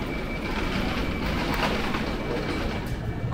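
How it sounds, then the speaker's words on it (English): Steady rumble and rattle of the Gatwick Express train heard from inside a carriage, a continuous loud roar of wheels and motion with a faint high whine and no speech. "Travelling on the Gatwick Express."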